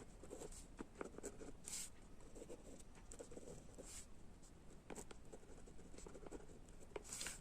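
Pen strokes scratching across paper as matrix rows are copied down, with brief scattered marks and a few sharper taps over a quiet, steady room background.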